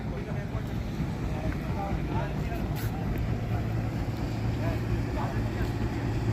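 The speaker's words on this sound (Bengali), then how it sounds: "এই যে একটা ট্রলার আসতেছে, খুবই স্পিডে আসতেছে এটা।" A motorised trawler races across a lake near Rangamati, its engine giving a continuous loud rumble and wash, with people talking over the steady noise.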